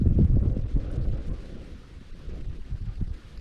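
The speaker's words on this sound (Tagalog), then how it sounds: "Mukhang humangin na mga katangay sa labas." Strong wind gusting outdoors, a loud, continuous low rumble of buffeting against the microphone, surging and easing in waves with no one speaking.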